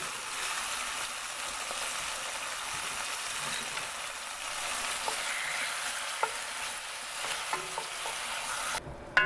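Browned lamb being stirred in a pan with sugar and flour, a continuous sizzling hiss with scattered spoon scrapes and taps, close up, ending in a couple of sharper knocks.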